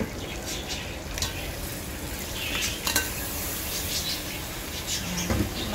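Boiled crab halves are stirred and tossed in a pan, a continuous scraping and clattering of shells and utensil against metal with a light sizzle, no voices present.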